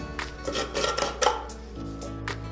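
A container of coconut oil is handled and opened, giving a few close, light clinks and clicks and some rustling, then a quieter stretch.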